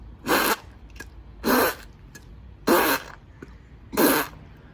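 A mouth imitates a fart during a circular breathing exercise, producing four evenly spaced buzzing, sputtering blasts of about a quarter second each, close and distinct with quiet pauses between.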